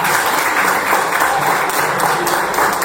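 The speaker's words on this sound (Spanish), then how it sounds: "Así que le pueden dar el aplauso a Fefita." Brief burst of dense, loud audience applause honouring someone who has turned 80, steady throughout with no talk.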